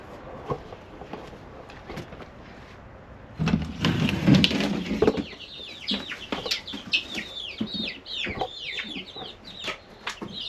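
Many high, rapid peeps from young chicks fill the space, overlapping continuously, with a burst of rustling and scuffling near the start.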